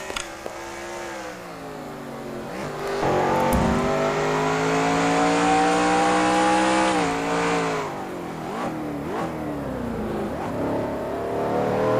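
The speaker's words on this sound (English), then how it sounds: "Let's ride along with Seth Cole." Onboard a Ford V8 Pro Series race car at Ruapuna Park, the engine roars loudly and continuously, its pitch rising and falling through gear changes as it revs and lifts through corners.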